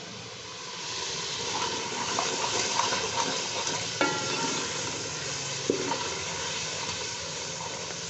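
Lentils soaked and washed beforehand drop into spices already fried in a pan for daal mash, giving a steady broad sizzle with faint stirring clicks and scrapes that runs continuously for the whole stretch, close by and with no talking.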